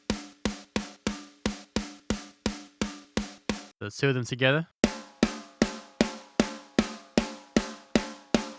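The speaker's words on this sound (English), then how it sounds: "this sample here is a mixture of 2 snares from Drumforge" Layered snare sample blending a Ludwig Supraphonic LM400 and a Ludwig Jazz Festival, struck in an even run of sharp, crisp hits with short rattly decay; a voice briefly talks between hits.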